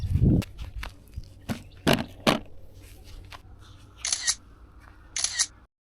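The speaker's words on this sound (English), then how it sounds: "Now I'm just going to take the photos" A camera shutter clicks several times in quick, separate bursts outdoors, with footsteps and handling noise between the shots and two brighter, longer clicks near the end.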